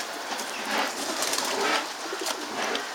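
Soft cooing from a pigeon nearing the end of its molt, close by, low throaty murmurs over a hissy background, with no voices.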